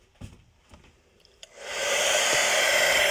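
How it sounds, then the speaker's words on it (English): A hairdryer switches on after a few faint clicks and handling noises, then blows a loud, steady rushing whoosh, drying makeup on an actor's skin. "A hairdryer."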